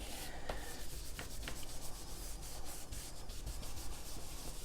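A brush scrubs Distress ink around the edges of a card, giving a soft, continuous bristly rubbing with small repeated strokes, close and fairly quiet, with nobody speaking.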